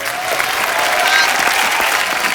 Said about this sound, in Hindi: एक बार बच्चा के लिए जोरदार तालियां